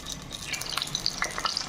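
Stuffed eggplants drop one by one into hot oil in a heated pressure cooker, giving soft sizzling and frying crackle with brief clinks and stirring sounds.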